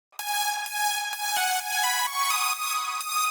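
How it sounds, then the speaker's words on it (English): A bright, buzzy high saw-wave synthesizer layer plays alone in a progressive house arrangement, holding sustained notes that shift pitch every half second or so, rich in upper harmonics. "Then, there is a high saw layer,"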